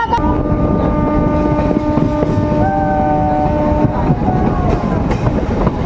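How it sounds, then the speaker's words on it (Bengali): A MEMU train entering a railway station rumbles and clatters steadily in the foreground, with sustained tonal squeals from wheels or brakes drifting in pitch as it rolls along. "হাওড়া ডিভিশনের প্রথম ট্রেন শিয়ালদাহ ডিভিশনে এই মুহূর্তে প্রবেশ করছে"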